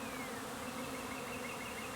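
Honey bees at a hive in spring buzz loudly and continuously in a dense, steady drone with no voices.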